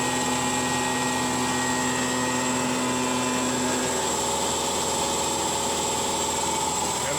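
A CNC machine makes a heavy cut on a Damasteel knife blade, a steady loud whine with tonal harmonics and broadband grinding noise that continues throughout, with the pitch and texture shifting partway through.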